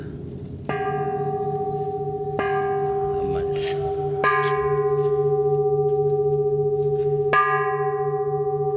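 A cast bell is struck four times at spaced intervals, each strike ringing out with a clear, sustained tone that hangs and overlaps the next, loud and close with no talk.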